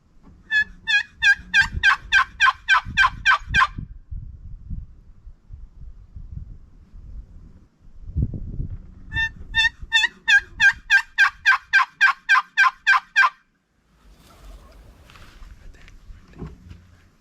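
Rio Grande wild turkeys in Zavala County gobble in two long runs of rapid, evenly spaced calls, fairly loud, with low rumbling and quiet movement noise between them.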